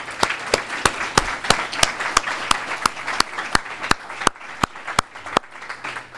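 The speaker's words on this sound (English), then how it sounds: "So please give her a round of applause." A luncheon audience claps steadily for an honoree, with one pair of hands standing out in a sharp, evenly spaced rhythm above a dense, continuous wash of applause that tapers slightly near the end.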